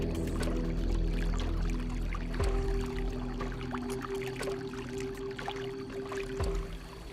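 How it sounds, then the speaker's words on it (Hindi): Water flows and trickles nearby, a continuous wet gurgle with scattered splashy clicks, plus a steady low tonal hum running underneath. "ऐसा लग रहा है जैसे आसपास में कहीं पानी के बहने की आवाज़ आ रही है"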